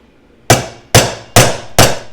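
A small bearing on a portable bandsaw is tapped home with a socket: four crisp metallic hammer blows, evenly spaced about half a second apart, loud and close, each ringing briefly, with no talk.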